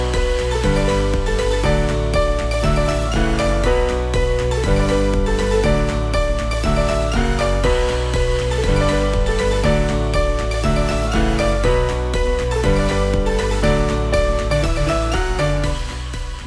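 A dense, continuous piano passage from a song, with a busy repeating melodic figure over full chords, played loudly and evenly throughout.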